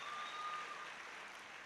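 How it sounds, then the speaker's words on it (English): Audience applause fills an auditorium at a university pre-convocation lecture, a steady faint wash of clapping from a distant crowd with no voices on top. "A round of applause for him."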